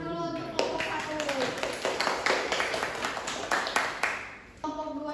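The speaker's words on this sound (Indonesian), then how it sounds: "tepuk tangan dulu untuk kelompok 1" Classroom applause for the first student group during a microteaching session: a burst of quick, uneven clapping from several people, fairly close, with speech mixed in and a brief pause near the end.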